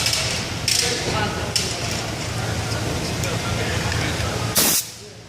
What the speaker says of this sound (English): Okay, so I put the air pressure to it.